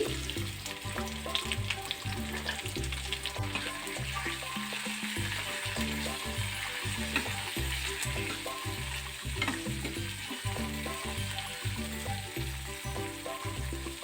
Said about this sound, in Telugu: ఇప్పుడు పోపు దినుసులు వేసుకొని వేయించుకోవాలి